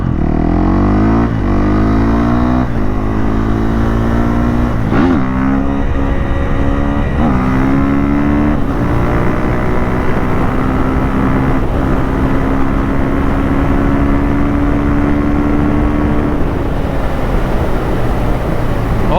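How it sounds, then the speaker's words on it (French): A motorcycle engine revs hard on a road as the rider pulls a wheelie, its loud, rising drone climbing through the gears and then holding a high, sustained pitch. "Ah, ça fait plaisir, un petit wheeling,"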